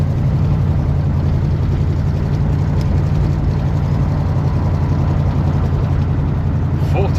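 A Pontiac Grand LeMans with timing and carburettor trouble driving on a closed road, its engine a steady low rumble from inside the car, constant and fairly loud with no clear change in pace.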